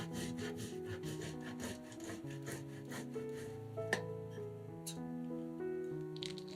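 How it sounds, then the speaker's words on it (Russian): About 50 grams of cheese rubbed against a fine grater, giving a steady run of soft rasping strokes over tonal background music. "Берем еще 50 грамм сыра и тоже трем его на мелкой терке."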